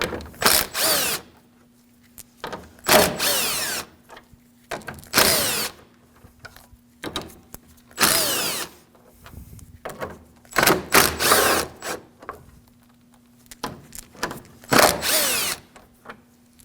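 A power tool spins out the 10mm bolts along the top of the grille on a 2016-2022 Honda Pilot: about eight short, sharp, whirring bursts close by, separated by quiet gaps.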